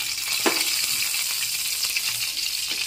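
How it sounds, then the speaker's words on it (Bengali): Dried red chillies sizzle in the leftover oil in a wok after fish were fried in it, giving a bright continuous hiss and crackle close by with a few soft stirring scrapes. "কড়াইয়ের মধ্যে বাকি তেলটা দিয়ে এর মধ্যে দিয়ে দিচ্ছি শুকনো লঙ্কাটা"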